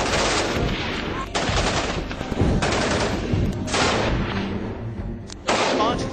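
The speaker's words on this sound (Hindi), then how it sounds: "9mm की पिस्टल से बेझिझक गोली चला सकता है" A child fires a 9mm pistol. Loud, sharp shots come roughly every one to two seconds, each followed by a harsh noisy tail that fills the gaps between them.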